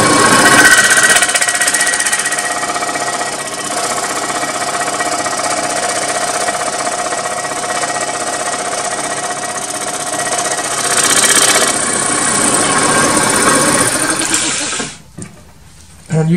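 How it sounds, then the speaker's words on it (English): Saw blade cutting through brass stock while making an octant, a loud, steady, buzzing rasp that runs continuously for several seconds, close up, then stops abruptly near the end. "it cuts through the brass pretty well."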